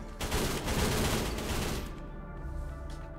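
A short burst of SMG fire in the Roblox game Parasite rattles fairly quietly for about two seconds, then falls away to a low background hum.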